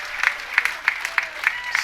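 Spectators at a professional women's bowling stepladder final clap in sharp, evenly spaced bursts over a steady crowd murmur, heard at a moderate distance.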